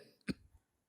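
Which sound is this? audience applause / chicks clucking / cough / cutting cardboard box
cough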